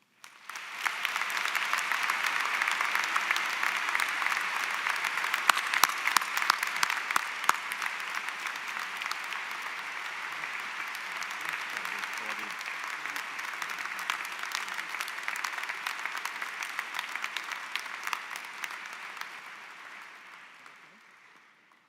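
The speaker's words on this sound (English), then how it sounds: "one more round of applause" A large commencement ceremony crowd applauds in a long, dense, sustained round of clapping that swells quickly, holds steady for about twenty seconds, and then fades out.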